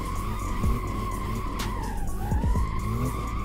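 BMW M2 sliding sideways at a drift park in Assetto Corsa, tires squealing in long screeching swells over a droning engine, with a brief break in the slide midway.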